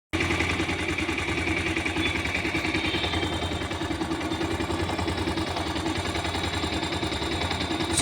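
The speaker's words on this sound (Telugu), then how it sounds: "ఇప్పుడైతే ఇంజన్ అనేది ఆన్ చేస్తాను." A motorcycle engine, just repaired after a hole in its chamber, runs steadily after starting, a continuous close rumble with a rapid even pulse throughout.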